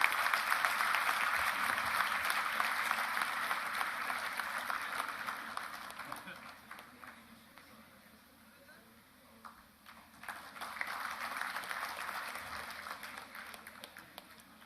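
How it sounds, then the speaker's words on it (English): A graduation convocation audience applauds, with dense clapping that swells at the start, fades to a lull, then rises again briefly. Faint voices sit underneath. "Ladies and gentlemen, a big round of applause for Mr."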